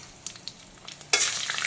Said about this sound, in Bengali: আলু ভাজার তেলেই দিয়ে দেবো প্রথমে 5 ফোড়ন।